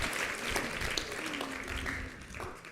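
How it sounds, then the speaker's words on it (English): Audience applause at an award ceremony for young women engineers, a steady wash of clapping from a crowd filling the hall for nearly three seconds, with faint voices mixed beneath. "Give yourselves a huge round of applause."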